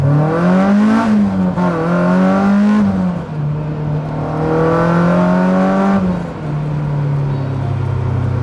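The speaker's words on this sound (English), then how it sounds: "Oh, that is absolutely glorious. So there we go, K24 S2000." A K24 engine-swapped Honda S2000 revs hard while driving, its engine note climbing and falling through several loud, sustained pulls with gear changes, close and continuous without speech.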